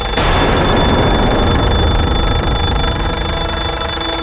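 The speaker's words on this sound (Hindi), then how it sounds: "अलार्म बजा" An alarm clock rings loudly and continuously at close range, a steady harsh buzzing tone with no talking over it.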